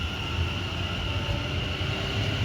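A London Northwestern Railway service pulls away from Bletchley on the West Coast Main Line, a steady broadband rumble and hiss of the moving train, close and continuous with no voices.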